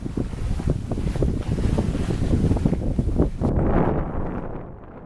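A tiller-steered sailboat sailing close-hauled cuts through choppy water with rushing splashes and heavy wind buffeting the microphone, easing off toward the end.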